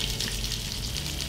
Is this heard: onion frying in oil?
yes